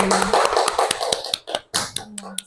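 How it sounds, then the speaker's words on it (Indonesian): A class of students claps their hands together in a quick, uneven burst of sharp slaps, close by, fading out and then resuming briefly with a few scattered claps. "tepuk tangan untuk kita semua dulu"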